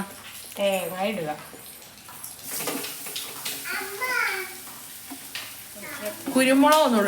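Grated coconut fries in oil in a pan, a soft sizzle with stirring scrapes running under a child's and an adult's chatter throughout.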